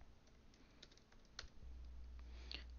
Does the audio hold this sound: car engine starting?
no